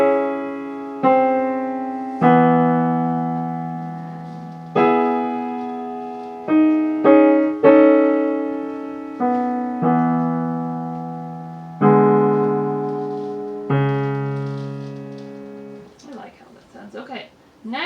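A piano plays a slow line of chords from Rachmaninov's Piano Concerto No. 2 Adagio Sostenuto, each struck and left to ring before the next, clear and close, ending in a brief scrape.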